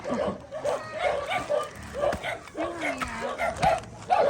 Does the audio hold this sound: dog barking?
yes